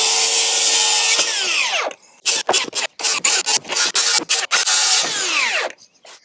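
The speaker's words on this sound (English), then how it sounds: "I ordered 16-foot long boards that I'll cut in half to 8 feet" A power saw cuts long Trex composite decking boards in half, opening with two sustained whining cuts, then a choppy stretch of bursts and pauses before a final long cut that spins down; no talk.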